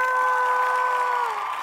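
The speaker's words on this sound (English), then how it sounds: "She claps and she gives you a standing ovation" Applause and cheering from a talent-show audience, a broad wash of clapping running steadily under a loud held sung note that bends slightly downward near the end.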